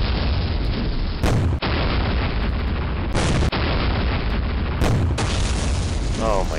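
Booming artillery shots in the World War II strategy game West Front, several loud blasts over a continuous rumbling battle bed, with one sharp hit near the end.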